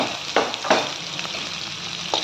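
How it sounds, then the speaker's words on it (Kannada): Onions frying in tempering oil with mustard seeds for a village-style avarekalu gojju, giving a steady close sizzle with a few louder stirring scrapes and crackles and no voices. "ಈರುಳ್ಳಿ ಹಾಕ್ಕೊಳ್ತಾ ಇದ್ದೀನಿ."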